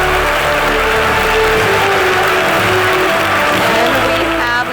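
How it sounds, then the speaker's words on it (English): Audience applause greets a panelist walking on stage at a technology conference panel, a steady dense wash of clapping with some crowd noise and a brief voice near the end. "A big round of applause."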